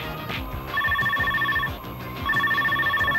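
Electronic telephone ringing in a Hindi TV serial scene, a steady warbling ring repeating in two bursts over a background music bed.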